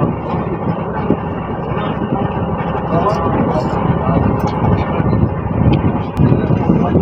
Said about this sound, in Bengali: নদীর হাওয়া তো খুব জোরে হাওয়া দিচ্ছে